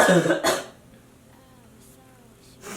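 A couple of sharp, close coughs from inhaling setting powder burst out at the start, followed by quiet room noise and a faint rustle near the end.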